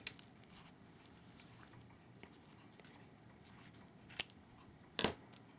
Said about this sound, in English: I don't want to use my good scissors because this is sticky, so I'm going to use some old scissors